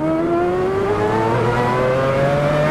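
A Mazda 787B rotary engine revs hard in Assetto Corsa, a loud, close, rising whine with layered harmonics climbing smoothly from low revs over nearly three seconds, no talk.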